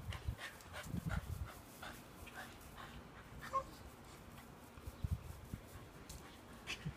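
A dog makes soft snuffling and whimpering sounds up close, with faint panting and a few short yips in an otherwise quiet room.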